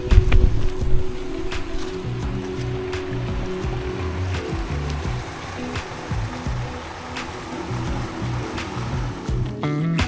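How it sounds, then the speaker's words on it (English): Rushing water of a mini waterfall pouring into a shallow natural pool at Pliva waterfall in Bosnia and Herzegovina, a steady close churning roar with low-end rumble and occasional splashes, no speech. "Look at this little kiddie pool"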